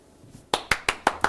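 Five sharp, evenly spaced claps ring out at a village board meeting, close and crisp, a small sparse round of applause rather than a full crowd.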